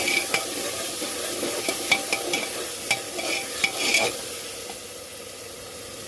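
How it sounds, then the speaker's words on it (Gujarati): A spoon stirs chili and spices through rice in a sizzling pan, sharp scraping taps landing irregularly over a soft continuous fry, close and fairly quiet. "बराबर मिक्स करी देशुं"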